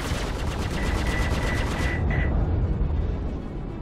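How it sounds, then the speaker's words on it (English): Rapid bursts of Mark IV laser cannons and Badger repeaters firing together in a space combat video game, a dense rhythmic rattle of shots that stops abruptly, leaving a lingering tail. "The sweet sound of the Mark IV laser cannons working in conjunction with those wonderful"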